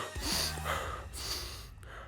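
Panting, gasping breaths of a person worn out after running, several quick heavy inhales and exhales close up, with no speech.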